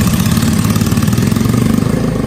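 A customized brat-style Yamaha SR 250 single-cylinder motorcycle idles close by with a loud, steady, rapid thumping pulse.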